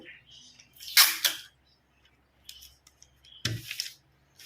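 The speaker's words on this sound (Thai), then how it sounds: "แล้วเราก็เอากระดาษนะคะ ตัดกระดาษเลยค่ะ" Scissors cut paper for a Thai dress sleeve pattern, a few short crisp snips with quiet gaps between them.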